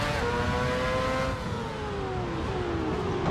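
Racing car engine in the Assetto Corsa driving game, a loud sustained drone whose harmonic pitch slides steadily downward as the car shifts and pulls away.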